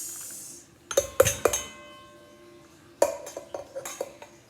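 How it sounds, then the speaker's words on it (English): A metal utensil stirs lye into carrot juice for soap making, scraping and clinking against the container in two short bursts of ringing taps, close and clear with no talk. "Mixing my lye in my carrot juice."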